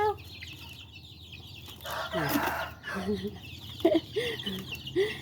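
Chickens clucking and squawking in agitated bursts as they are caught by hand and put into a basket, close and loud, with people talking in the background.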